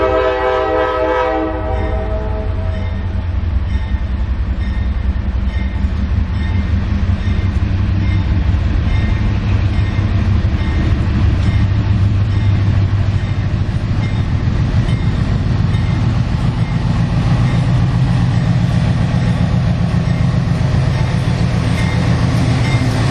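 Train CA53 rolls into a rail yard with a horn blast at the start, then a steady heavy rumble of wheels and cars with rhythmic clatter, loud and continuous throughout.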